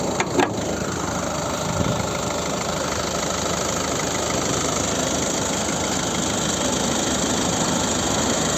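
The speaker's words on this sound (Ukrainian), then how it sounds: "Зараз підемо подивимося, як працює двигун" A 2015 Ford Focus III 1.5-litre diesel engine idles steadily nearby with a constant low rumble and faint rattle, continuous throughout with no voices.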